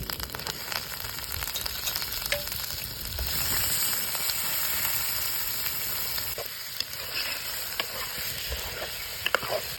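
Chicken frying in a pan for gongura chicken, a continuous close sizzle with crackles and occasional stirring scrapes, steady throughout.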